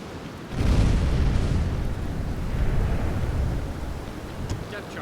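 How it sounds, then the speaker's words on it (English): Depth charges detonate close to a submarine in the UBoat game, a loud, deep rumbling underwater blast that swells and rolls on for several seconds before slowly fading, with a faint voice beneath. "Depth charges. Very close."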